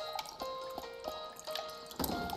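Quiet watering of plants in the café game Espresso Tycoon, with soft drips and short trickles of water at an uneven pace, alongside light chiming tones.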